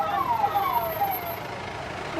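A VIP convoy's siren wails with rising and falling tones over a steady rumble of road traffic in Ayodhya, fairly loud and continuous.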